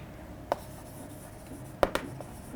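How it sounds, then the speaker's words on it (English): Faint, light marker taps and short strokes on a board during a chemistry lesson, one quick stroke followed by a pair of close strokes over quiet room tone. "Let me just write that again."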